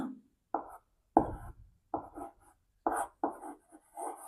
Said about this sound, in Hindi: अब देखिए मैंने लिखा वह मोहन की साइकिल है।